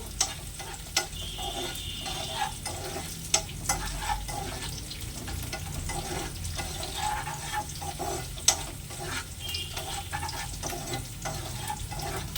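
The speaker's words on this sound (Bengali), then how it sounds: "এবার সবগুলো উপকরণ একসাথে ভেজে নিতে হবে।" Dry fruits fry together in a pan with a continuous low sizzle, broken by regular scraping clicks and taps as they are stirred, with no voices.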